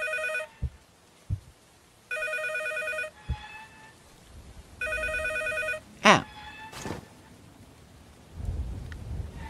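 A telephone rings in a scary video game in three separate electronic trill bursts spaced apart, among thuds, a sharp rising swoosh and rumbling storm noise.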